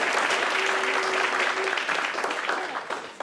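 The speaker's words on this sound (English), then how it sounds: "a round of applause for both of these individuals" A live audience breaks into a sustained round of applause at the close of an in-person presentation, dense steady clapping that fills the room for a few seconds before gradually thinning out.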